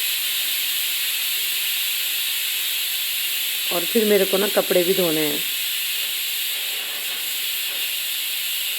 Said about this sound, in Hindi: चावल में सीटी आ गई